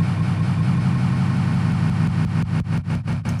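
Granular synthesis of recorded audio imitating a running engine, a dense steady rumbling drone that turns into rapid pulsing rhythmic chops toward the end, loud and close with no voices.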